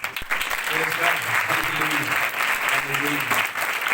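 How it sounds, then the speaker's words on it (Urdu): A church congregation claps together during a Sunday sermon, a steady dense patter of hands at moderate loudness, with someone speaking over the clapping for much of it. "کس کے لیے تالیاں بجا رہے ہیں؟"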